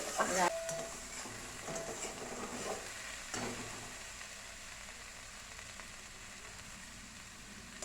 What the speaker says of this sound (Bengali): রাধুনি বাটা আর আধা আদা বাটাই এই হাফ চামচ মতন দিলাম আর এটা দিয়ে একটু নেড়ে চেড়ে নেব